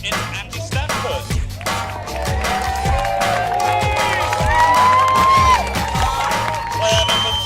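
Spectators at a polo pro-amateur tournament cheer for a popular player, a steady crowd roar with whoops and scattered claps, loud and continuous, with whistles and voices rising over it.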